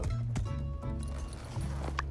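Horse hooves clip-clopping in My Time at Sandrock, a steady gait of soft, evenly spaced thuds over a light bed of background game music and ambience.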